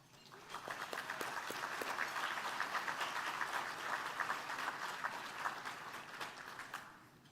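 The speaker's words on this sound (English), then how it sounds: "join me in another round of applause as we start these celebrations" An audience at a banking hall of fame awards ceremony claps in sustained applause that swells quickly, holds steady for several seconds and tapers slightly, heard from within the room.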